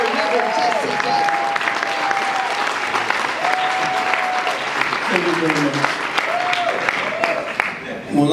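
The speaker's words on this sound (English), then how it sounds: "Give Reverend Jackson a big welcome and a round of applause." Loud, sustained applause and crowd noise greet Reverend Jesse Jackson at a panel event, steady across the whole stretch, with voices calling out and talking over the clapping.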